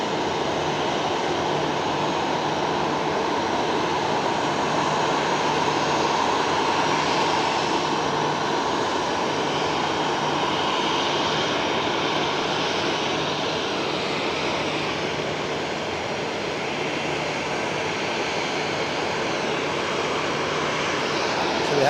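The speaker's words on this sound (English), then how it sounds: "We have an inbound aircraft." An EgyptAir Boeing 737 arriving from Cairo at Geneva Airport produces a steady, loud jet engine roar that swells gently and holds for a long stretch, with no voices over it.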